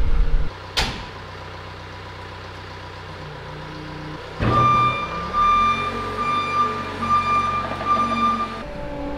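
A Manitou telehandler on a farm yard comes to life with a sharp click, then its engine settles into a loud nearby rumble while a steady reversing beep sounds over it.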